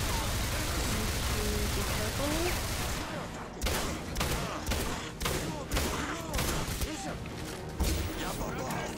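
Shotgun blasts in Singularity ring out as a series of sharp, loud shots spaced about a second apart, following a stretch of dense combat noise.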